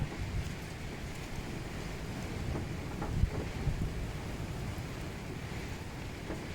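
Strong hurricane wind during a violent storm buffets the microphone in a constant low rumble with gusty surges and a single sharp bump, loud and close with no voices.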